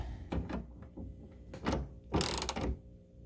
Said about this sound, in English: Put the screw back in. Tighten her up.